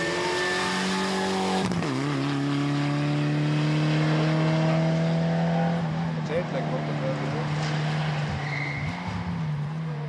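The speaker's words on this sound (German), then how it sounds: "Manfred Stohl mit seinem gasbetriebenen Mitsubishi Evo 9 und Hermann Neubauer mit seinem Subaru Impreza im Renntempo fahren sehen." Rally cars, a gas-powered Mitsubishi Evo 9 and a Subaru Impreza, race at full pace on a special stage, with loud sustained engine drone and rising revs, a sharp gear change near two seconds, under commentary.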